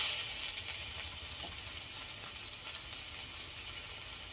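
Dry red chillies, five-spice seeds and chopped onion sizzle in hot oil in a Bengali kitchen, making a loud, continuous hiss that holds steady throughout.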